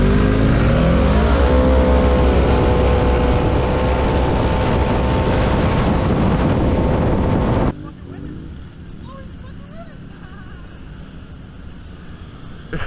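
Polaris and Kawasaki side-by-sides race nearby, their engines revving loud and rising in pitch with wind buffeting the microphone, then dropping away to a quieter rumble partway through.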